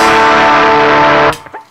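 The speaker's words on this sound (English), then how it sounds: "this is on my distortion pedal loop." A loud, sustained distorted electric guitar chord rings out thickly, then cuts off abruptly, leaving a few faint scrapes and taps.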